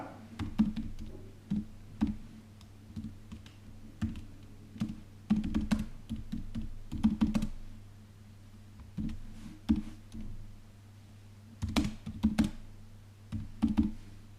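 A computer keyboard typed on while writing C code, quick clusters of crisp key clicks in irregular bursts with brief pauses, close and fairly quiet over a steady low hum.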